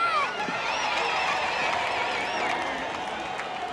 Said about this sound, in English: Half the town has turned up to cheer them on their way.